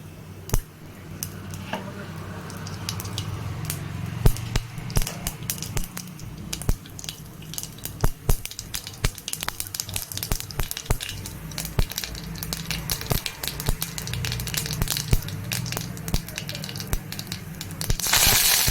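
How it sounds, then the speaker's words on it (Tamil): Mustard seeds spluttering in hot coconut oil in a pan, a dense, steady crackle of popping and sizzling that stays loud throughout, with sharp individual pops scattered across it. "எண்ணெய் நல்லா சூடாந்து கடுகு பொரிச்சு கொட்டி கடுகு நல்லா பொட்டிந்து"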